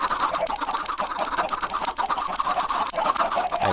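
Chickens raised in a backyard coop cluck busily and continuously at close range, a dense overlapping chorus of short calls with no voices over it.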